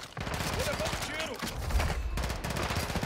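Rapid, continuous gunfire in the video game Warzone 2.0 crackles throughout, with dense bursts of shots and a low rumble, a voice faintly mixed in.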